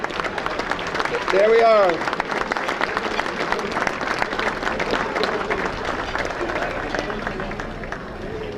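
Banquet audience at a sports hall of fame dinner applauds steadily and fairly loudly throughout, a broad wash of clapping with a brief voice rising over it and a short spoken phrase near the start.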